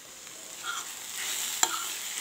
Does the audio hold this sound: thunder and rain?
no